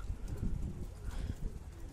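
Pigeon cooing on a rooftop, a newly arrived, dirty-looking bird, with low soft murmuring coos repeating steadily and close, amid faint rustling and background noise.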